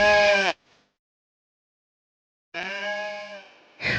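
Goats bleating at an animal feeding area where visitors feed goats and rabbits: two loud, close, wavering bleats separated by a two-second silence, with the start of a third call at the end.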